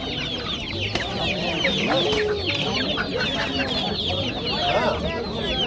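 Several chickens cluck and chatter nearby at a poultry market in a continuous, busy flock, with overlapping calls and a faint background murmur.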